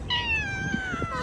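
A cat in Dubai gives a single drawn-out meow, clear and fairly near, gliding downward in pitch over about a second against quiet background noise.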